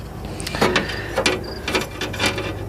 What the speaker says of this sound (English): But as I move that lever, it's actually coming in contact. This idler is coming in contact with this pulley.